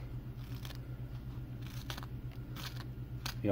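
A knife cuts partway into a block of puppet foam with a series of short scratchy, crunchy strokes close to the mic over a steady low hum.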